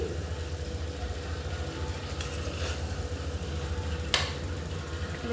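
Vegetables, carrots among them, stirred and mixed in a hot pan, with steady sizzling and frying hiss throughout and occasional scrapes and clatters of the utensil, close and fairly loud, no talk.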